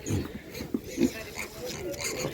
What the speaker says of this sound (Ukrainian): Шість автомобілів з свинками.